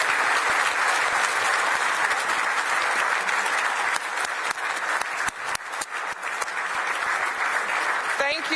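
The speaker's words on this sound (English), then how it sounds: "let's just give a big round of applause for the teams working and organizing the Brussels Economic" Audience applause fills a conference room at the Brussels Economic Forum, a steady dense clapping that holds for several seconds before thinning slightly toward the end, with a few louder individual claps standing out.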